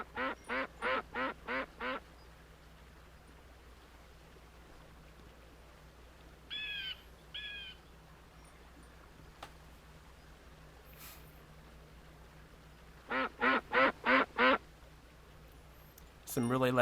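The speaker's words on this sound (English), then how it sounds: "Some really loud, like, ducks over there." Ducks in the Second Life virtual world quack loudly in two bursts of about five rapid calls each, with a couple of fainter bird calls in between and low ambient hum underneath.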